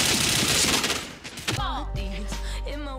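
Headshot gunfire in Point Blank: a loud burst of rapid shots up front, dropping into a steady hum of game effects and tonal chimes afterward.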